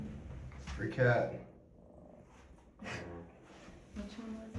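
A house cat purrs in a low, rough rumble, close up, while people talk over it during work in an attic of an old church.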